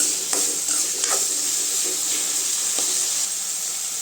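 Tomatoes for chutney sautéing in a hot pan, a continuous close sizzle and hiss broken by a few soft scraping stirs, no voices.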